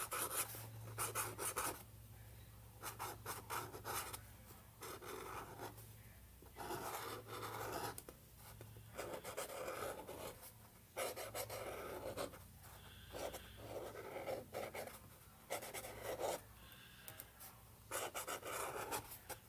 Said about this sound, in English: I'm simply just going to draw a few lines here